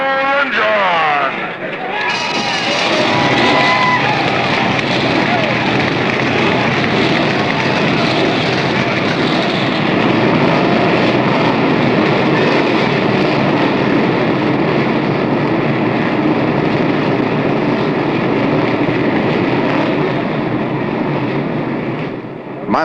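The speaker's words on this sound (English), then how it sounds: "Gentlemen, start your engine." A field of NASCAR Winston Cup stock cars at the 1976 Carolina 500 fires up and roars as one, a dense, loud and sustained engine din lasting over twenty seconds, with a voice heard over it at times.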